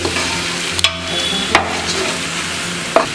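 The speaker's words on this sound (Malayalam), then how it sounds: "നാല് മിനിറ്റ് വഴറ്റിയെടുക്കുക. ചിക്കൻ ഒന്ന് ജസ്റ്റ് സോഫ്റ്റ് ആയാൽ മതി." Chicken sautéing in a hot pan, a loud steady sizzle with a few sharp clanks of a spoon stirring against the metal.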